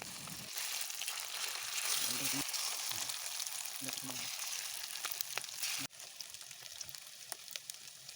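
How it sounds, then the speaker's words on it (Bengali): Marinated chicken pieces frying in hot oil, giving a dense, steady crackling sizzle close by with a few faint pops and stirring sounds throughout. "তেল গরম হয়ে গেছে, এবার আমি চিকেনগুলোকে তেলে দিয়ে ভালো করে ভেজে নেব।"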